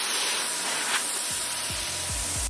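Thick, unthinned paint hisses from a paint sprayer in one steady, loud spray across a desk restoration job, ending abruptly.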